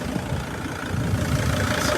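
Diesel engine of a former airport jitney idling nearby, a steady low rumble with a faint knocking texture, continuous and unchanging over the short stretch.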